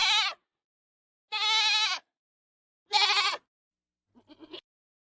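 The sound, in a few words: goat bleating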